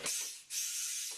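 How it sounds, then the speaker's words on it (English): Two bursts of compressed air hiss sharply from the nozzle of a center post tire changer, close and fairly loud, separated by a brief pause. "Half pedal gets you just the air out of the nozzle,"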